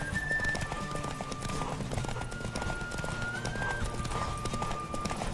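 Horse galloping during a race in The Witcher 3, rapid steady clip-clop hoofbeats throughout with occasional whinnies and a faint tonal whistle, moderately loud under game ambience.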